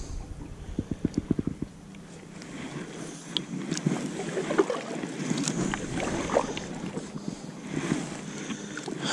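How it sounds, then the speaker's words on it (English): Kayak paddling on the water of Oberon Dam, with a run of quick rhythmic paddle strokes and splashes near the start, then steady water lapping and wind noise close to the microphone. "So I thought I'd just paddle up and around this little island."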